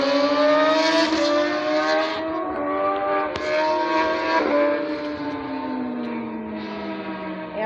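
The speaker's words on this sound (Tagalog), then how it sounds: "Yan po, mga motor po yung nagre-race ngayon." Racing motorcycles scream past somewhere behind a house, high revving engines rising and falling in pitch as they accelerate and fade, fairly loud but at a distance.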